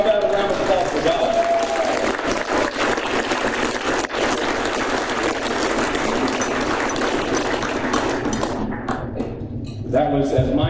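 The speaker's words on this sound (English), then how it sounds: "How about a round of applause for God?" Sustained audience applause at a women's gala award dinner, a full room clapping steadily for about ten seconds before dying away as a voice returns.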